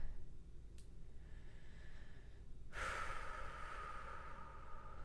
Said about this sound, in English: Let's go ahead and take a deep breath.